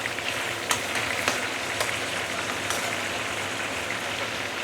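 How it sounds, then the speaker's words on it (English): Large spare ribs frying in a pan for sweet and sour ribs, a loud, steady crackling sizzle with occasional sharper pops throughout. "I'm going to fry this spare rib probably for about 5-6 minutes"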